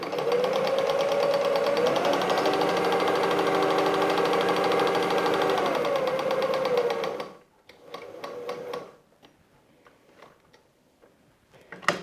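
Sewing machine running a straight stitch at length 2.5 with a standard presser foot and size 70 universal needle, joining fabric for a small Easter basket: a steady, close mechanical whir for about seven seconds, then short bursts as the stitching is locked.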